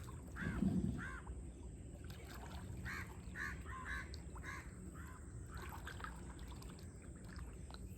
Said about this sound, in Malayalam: കാക്കയും കിളികളൊക്കെ നമ്മുടെ വലയിൽ വല്ലതും ഉണ്ടെങ്കിൽ അഭ്യാസ പ്രകടനം നടത്തി കാണും.